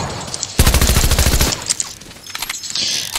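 Infantry rifle fire in a video game: a loud rapid burst of gunshots, then scattered quieter shots and distant battle noise.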